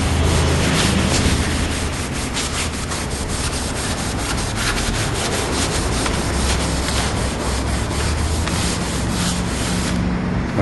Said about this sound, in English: we want to get it down as close to the bare wood as we can get it with the lacquer thinner and the maroon pad